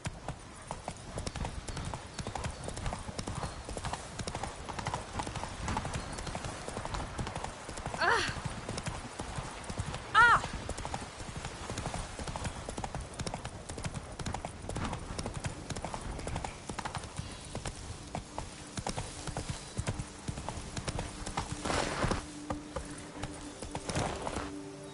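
Roach, Geralt's horse in The Witcher 3, gallops with hooves clip-clopping in a quick continuous beat, a brief snort or whinny partway through, and game ambience underneath.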